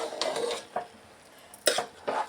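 A spoon stirs vegetable pulao masala in a pot, heard as several loud scraping, clattering bursts against the metal separated by short pauses, with a faint sizzle beneath.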